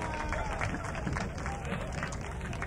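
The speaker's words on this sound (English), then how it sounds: "Listen to that applause, huh?" Sustained audience applause and crowd noise at a White House jazz festival, steady dense clapping filling the whole stretch with a murmur of voices underneath.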